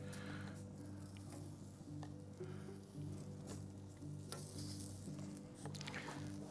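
Sliced midsummer fennel bulb sizzles on a hot grill with a continuous crackling hiss and scattered pops, over a low steady hum from the cooking setup.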